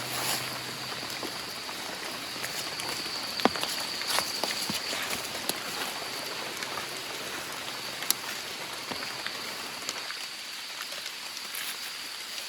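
Steady rain falls through a forest during a storm while wild mushrooms are gathered, a dense hiss of drops with occasional louder splats on leaves, continuous and fairly close, with no talking.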